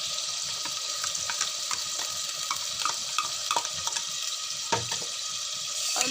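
Chicken being fried and stirred in a pot after garlic-ginger paste is added, for Delhi-style nihari, giving a steady wet sizzle with scraping stir strokes close by and no talk.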